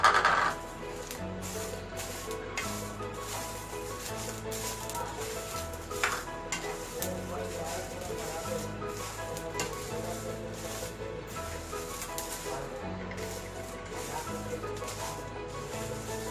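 Chillies fry in hot oil in a pan over low heat, a continuous soft sizzle with frequent scraping and clinking of a spoon stirring against the pan, steady and close with no talking.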